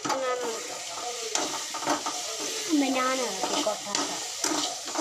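Onion and tomato for an egg curry stirred in a pan, a steady sizzle with scraping spoon strokes and light clinks against the pan, while a voice talks over it throughout.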